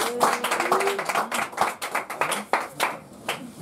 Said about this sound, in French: On acclame la parole.